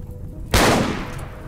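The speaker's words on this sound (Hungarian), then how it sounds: "Melyik seggfej lövöldöz?" Gunfire in the video game RimWorld: a single sharp, loud burst that decays over about a second, heard alone with no speech.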